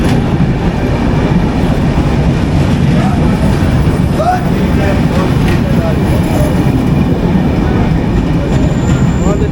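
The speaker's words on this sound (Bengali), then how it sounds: "আমাদের ট্রেন সাগরদাড়ি এক্সপ্রেস ইতিমধ্যেই চলে এসেছে" Sagardari Express train at Ishwardi Junction in Bangladesh: a steady, loud rolling rumble with faint wheel squeals running throughout, and voices murmuring underneath.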